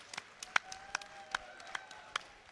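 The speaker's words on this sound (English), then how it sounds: "Another round of applause for Wavy and all of top 8." Sparse, scattered claps from a small group at a Tekken 8 tournament watch party, a handful of distinct, separated hand claps ringing out over a quiet room, faint and irregular.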